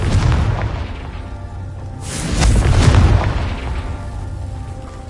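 A Confringo blasting spell goes off with a loud, rolling explosion in Hogwarts Legacy. A sharp burst leads into a long rumbling boom that swells and then fades.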